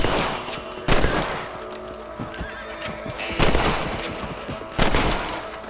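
Gunshots in the video game Red Dead Redemption, fired while shooting rabbits on horseback, with sharp loud cracks at irregular intervals and horse sounds and hoofbeats in between.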